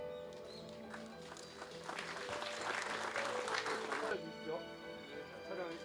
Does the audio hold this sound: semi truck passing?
no